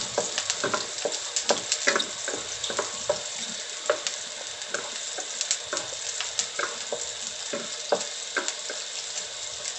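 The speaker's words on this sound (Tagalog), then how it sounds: "Ilagay na natin yung sibuyas mga kaulam. Sauté lang natin" Onions sauté in a hot pan with a steady sizzle, punctuated by repeated scraping and stirring clicks from a utensil, no voices present.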